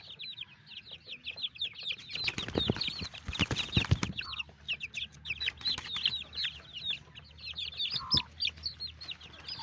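Chicks and young stag chickens in a small yard keep up steady high peeping and soft clucks, with a brief burst of flapping wings and scuffling partway through, all close by.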